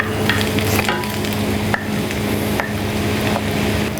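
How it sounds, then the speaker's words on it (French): Spinach sautéing in plenty of melted butter in a frying pan, a steady loud sizzle with occasional stirring scrapes close by, no talk. "on met les épinards, on n'attend pas que le beurre soit bruni. Et on fait sauter les épinards."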